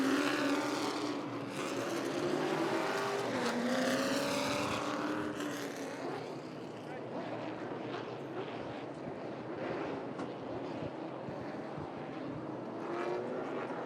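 Limited late model race cars on an oval track roar past together as the field fans out, engines loud and close at first, then thinning into a broader, rougher rumble as the pack moves away.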